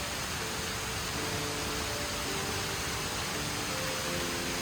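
Mountain stream near Sapa running full and fast after rain, a dense loud rushing wash of water that stays constant and close throughout, with no talk.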